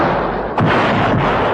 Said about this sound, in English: Activating hindsight cannons.